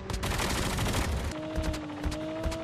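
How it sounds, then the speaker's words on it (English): Call of Duty Mobile gunfire rattles in dense, rapid automatic bursts, loud and close through most of the stretch, with a sustained tonal whine running underneath in the second half. "King getting shot?"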